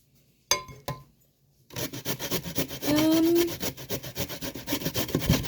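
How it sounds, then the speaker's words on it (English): Carrots are grated by hand on a kitchen grater that keeps clogging, producing close, rhythmic rasping strokes that follow a few soft knocks and clinks at the start. "grate carrots and just top it up with plain grated carrots"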